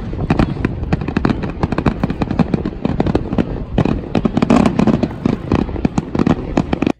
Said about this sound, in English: watched the fireworks.